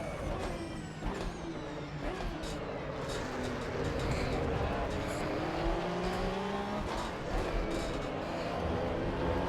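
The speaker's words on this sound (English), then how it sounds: "when you're in a pack of GT cars and they're all like snorting away like a pack of wild boars" Several GT race cars in the Assetto Corsa EVO racing game run in a pack, their engines snorting and revving close together in a continuous loud roar with shifting pitch.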